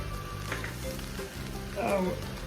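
Shrimp fried rice with vegetables sizzles steadily in a hot pan, with scraping stirring strokes and bumps of the utensil against the pan throughout.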